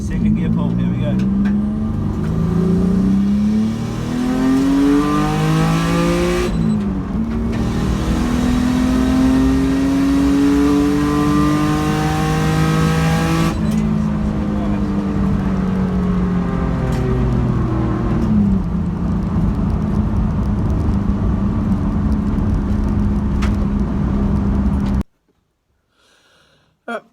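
A Pontiac GTO race car engine roars through a second gear dyno pull, revving repeatedly in rising sweeps as pitch climbs and drops, loud and close, before cutting off abruptly near the end.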